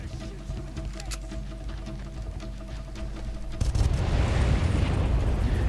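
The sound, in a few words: gun firing in video game Far Cry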